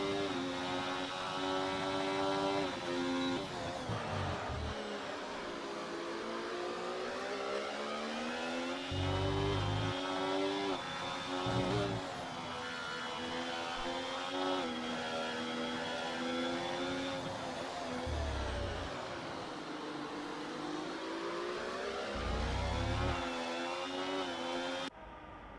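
Three racing cars battle closely for position in a Formula racing game at Bahrain, engines droning continuously with rising and falling pitch as they shift and accelerate, with brief low thumps along the way.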